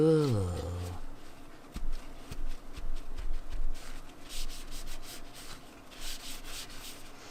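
Gloved hands rub material around on a surface in repeated close, scratchy strokes that come in uneven bursts, after a brief voiced sound at the start.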